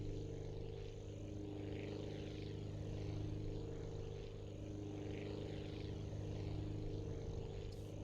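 A propeller aircraft engine in the Aviassemble video game drones steadily and loudly through a takeoff run, its harmonic hum holding a constant tone for the whole stretch with no speech over it.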